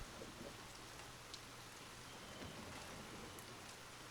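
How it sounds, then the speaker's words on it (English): Rain falling on a canal boat roof, a steady soft patter of drops, even and continuous throughout, close and quiet with no voices. "the gentle percussion of raindrops on the boat's roof."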